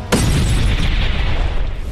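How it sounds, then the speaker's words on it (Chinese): A lamp bomb goes off in a TV drama scene, a sharp, loud boom followed by a dense, rumbling blast that carries on without fading. "迎接他的便是一记台灯炸弹"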